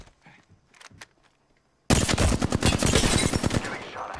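Video game gunfire: after a near-silent stretch with a few faint ticks, a loud burst of rapid automatic fire erupts abruptly and keeps hammering in quick, regular shots.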